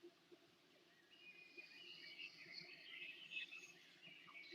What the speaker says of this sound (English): Listen to the joy that's in the bird's song.